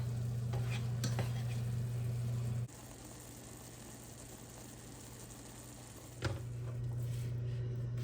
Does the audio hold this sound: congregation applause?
no